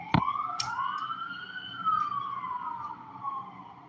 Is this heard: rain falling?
no